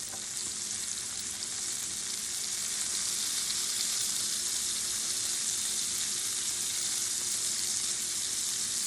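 Garlic sizzles and fries steadily in a makeshift wok for a shrimp and cauliflower rice stir fry, a dense, continuous hiss close up with no talking.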